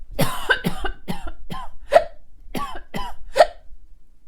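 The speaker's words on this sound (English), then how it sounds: "Coughing, and I have the hiccups." A run of about eight sharp coughs in quick succession, close and fairly loud, with brief pauses between each burst.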